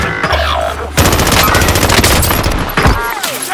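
Loud, dense automatic gunfire from Call of Duty Warzone on Rebirth Island, with sustained bursts filling the whole stretch and brief pauses between volleys, close and intense.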